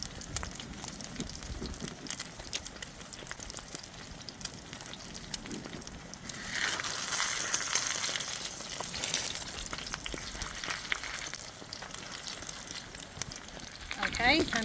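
Eggs fry in bacon grease in a restored cowboy wok, giving a steady low sizzle with occasional crackles and light scraping, swelling briefly louder midway.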